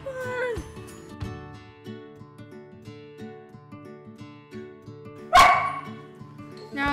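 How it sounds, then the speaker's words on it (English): A dog gives one loud, sharp bark near the end, standing out above a quiet background of soft sounds and faint voices. "That was my dog, and she's loud"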